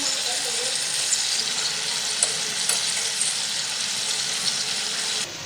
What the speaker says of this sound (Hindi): 6 से 7 मिनट हम इसी साइड पे इसे फ्राई करेंगे और फिर इसकी साइड चेंज कर देंगे।